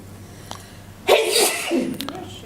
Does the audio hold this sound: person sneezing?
yes